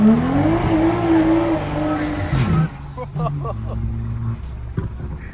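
A loud car engine revs hard and climbs in pitch as its tires spin and squeal, then the sound drops off into rougher rumbling with a few sharp bursts. Voices are faintly mixed in.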